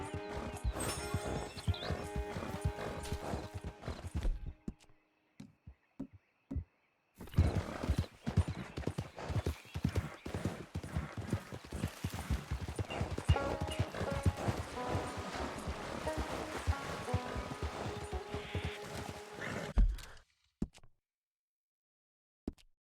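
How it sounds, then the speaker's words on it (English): Hooves clip-clop in a steady galloping rhythm as a horse runs in Red Dead Redemption 2, loud and close, breaking off briefly midway and then resuming for a long stretch with an occasional whinny. "It's not really John's horse, though."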